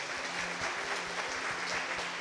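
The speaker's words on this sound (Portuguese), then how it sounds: "Você pode aplaudir a Ele?" A church congregation applauds during a Portuguese-language service, a short, moderately quiet wash of steady clapping with a low hum underneath.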